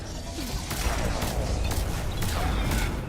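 Rapid gunfire and impacts in the video game Mass Effect 3, dense bursts and crackling shots over a rumbling battle din, fairly loud and continuous.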